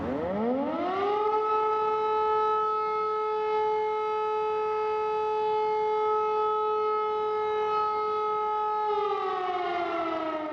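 Air raid sirens wail over Kyiv at sunrise during an attack, the civil defense tone rising, holding a long steady pitch loud and sustained, then beginning to wind down at the end, with no voices.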